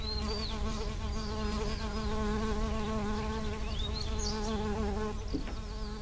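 A constant close buzzing of bees carrying pollen between flowers fills the scene, steady and loud throughout, with faint bird chirps in the background.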